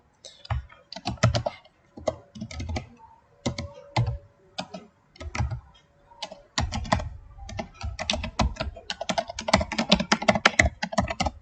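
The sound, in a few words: typing on a computer keyboard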